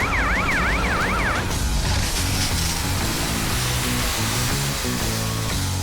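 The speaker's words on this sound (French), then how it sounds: "Pelle, monte voir si les pompiers arrivent." A cartoon fire engine siren wails in a rapid up-and-down pattern for about a second and a half, then gives way to loud rumbling engine and street noise with no talking.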